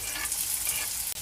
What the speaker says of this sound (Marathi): आणि हा कांदा व्यवस्थित भाजून घ्यायचा